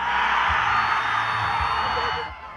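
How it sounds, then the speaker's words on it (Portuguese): A football team celebrates winning the final of the Campeonato Barro Durense, a dense, loud wall of shouting and cheering voices that holds steady, then eases off slightly at the end. "que soltou o grito de campeão graças ao goleiro Besouro."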